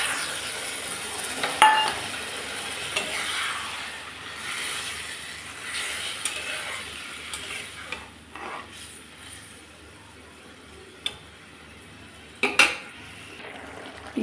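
A spoon stirs curry in a metal pan, with scattered scrapes and clinks coming in irregular bursts, and a little water is poured in. The sound is moderately close and quiet between knocks, and nobody speaks.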